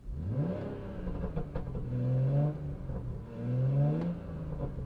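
Close, clear, repeated free revs from a parked BMW 340i, its B58 engine breathing through a CTS Turbo intake, each rev rising smoothly and dropping back to a steady idle, with no voices.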